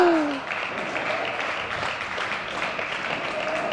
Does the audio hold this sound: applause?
yes